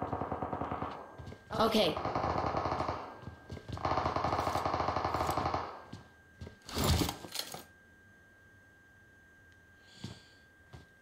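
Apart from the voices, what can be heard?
gunshots in PUBG Mobile video game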